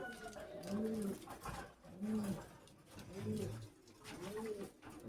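Domestic Tiger Double highflyer pigeons coo close by in four evenly spaced, throaty rolling calls, with a faint background murmur of people talking.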